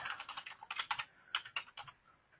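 A login name and password are typed on a computer keyboard: quiet, quick clusters of keystrokes with brief pauses between them, close and alone.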